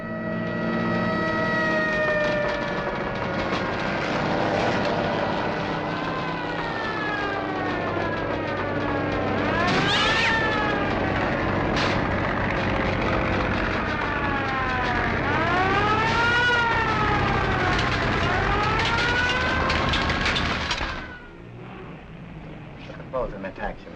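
A fire engine siren from a nearby firehouse wails loud and close in rising and falling sweeps, with tonal whoops repeating for about twenty seconds before cutting off abruptly.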